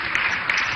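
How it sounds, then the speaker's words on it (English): Applause from an audience at a women's dialogue event, a steady dense wash of clapping that holds level for a moment, moderately loud with no talk over it. "The applause is not loud enough"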